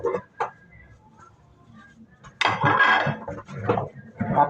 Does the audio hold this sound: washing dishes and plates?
yes